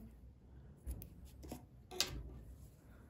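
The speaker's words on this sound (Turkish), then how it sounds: "İpliği kesiyorum." Scissors snipping knitting yarn, two or three soft quick cuts close by against a quiet background, no voices.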